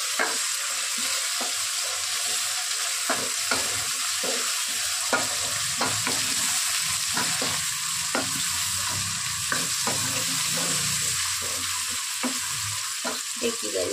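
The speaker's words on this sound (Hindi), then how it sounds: "इसमें डालेंगे अपन टमाटर। टमाटर को भी अच्छे से भून लेंगे।" Tomatoes fry in a pan with a steady, bright sizzle throughout, while a spoon stirs them in frequent short scraping knocks against the pan, close and without talking.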